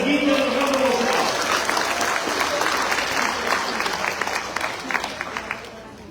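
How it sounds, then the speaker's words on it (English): A congregation at an anniversary Mass celebration breaks into steady, full applause that gradually thins and fades, with a voice heard briefly at the start. "Let us give them a round of applause."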